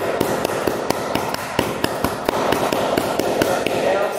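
Batukadeira beating a rolled cloth pad of napa held against the leg, a rapid steady run of sharp muffled slaps and thuds repeating close up.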